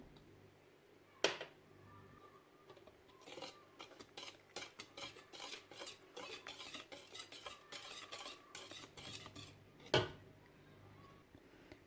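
A spoon stirs yogurt and oil into carrot, cinnamon and walnut cake batter in a bowl, making quiet, rapid rhythmic scraping and clinking, with a couple of sharper knocks on the bowl's rim.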